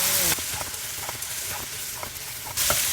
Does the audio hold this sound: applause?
no